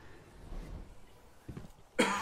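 A couple of short, muffled coughs near the microphone, ending in a sharper, louder cough at the close, with nothing else around them.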